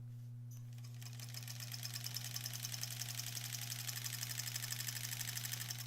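Sewing machine quilting a granny squares quilt with a fresh, full orange thread bobbin, starting up after a quiet moment and running in a steady, rapid stitching rhythm over a constant low hum.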